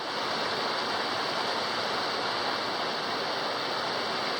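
Steady, full rush of a mountain stream and waterfall on a hike near Pico de Orizaba, constant broadband roar close by with no other sounds.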